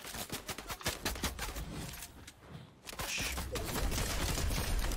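Rapid gunfire in a video game, a fast string of sharp shots up close, a brief lull, then a dense continuous clatter of fire, with little talk.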